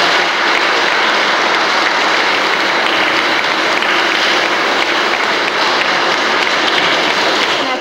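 Children applaud loudly and continuously at a school year-end ceremony in a Catholic primary school. The dense clapping fills the hall steadily for the whole stretch, with no pause.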